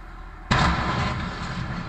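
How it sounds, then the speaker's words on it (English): A dump truck's raised bed strikes a bridge: a single sudden, heavy metallic bang erupts, loud and close, then rumbles and decays over the following second. "The sound of this truck colliding with a bridge is powerful."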